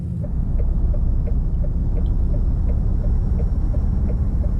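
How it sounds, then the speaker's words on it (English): A DAF XF 105 truck with a Paccar MX engine sound mod in Euro Truck Simulator 2, a loud, deep, steady diesel rumble from up close with a faint regular ticking over it. "I love this sound mod. Probably it's one of the best engine sound mods out there"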